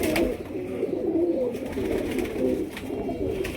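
Pigeons feeding and cooing softly in repeated low warbling phrases, several birds close by over a gentle background hiss.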